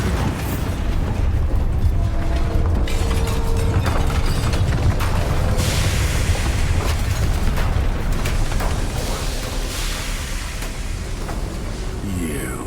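A Bombarda spell explosion in the video game Hogwarts Legacy: a loud, sustained rumbling blast with crackling bursts and mechanical clatter filling the whole stretch.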